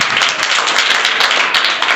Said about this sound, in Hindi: जाओ, ताली बजा दो इसके लिए।